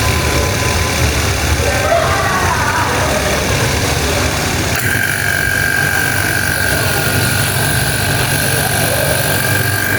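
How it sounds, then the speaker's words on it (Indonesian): Vacuum pump running steadily while evacuating a car air-conditioning system before refrigerant charging, a continuous mechanical hum and whine holding level for the whole stretch with a slight change in tone partway through. "Hidupkan pompa vakum dengan menekan saklar, pastikan kedua katup dalam kondisi terbuka"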